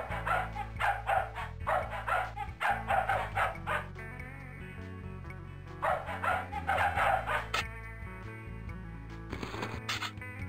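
A cartoon dog barks in rapid bursts of yips in the Putt-Putt Enters the Race game, repeating in clusters over bright background music, fairly loud and close.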